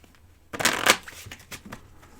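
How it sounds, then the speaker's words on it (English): A deck of tarot cards riffle-shuffled by hand, one loud close burst of flicking cards followed by a few softer taps and settling sounds. "I'll give that a couple shuffles here."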